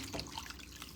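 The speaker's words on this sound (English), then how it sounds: "I just top it off with my water" Water pours into a pot for bone broth, a short continuous splashing trickle heard close up, fairly faint and without any talk.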